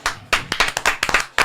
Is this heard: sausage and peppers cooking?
no